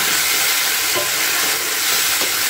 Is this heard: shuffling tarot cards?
no